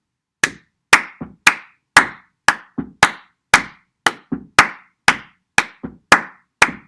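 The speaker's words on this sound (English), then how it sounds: "if I do stamps with stamps that are the dotted crotchets that are the 2, and then claps which are the 3" Sharp, close percussive hits sound alone in a steady interlocking pattern, foot stamps in a two-beat pulse against hand claps in threes, forming a repeating 3-against-2 rhythm with crisp attacks and short decays.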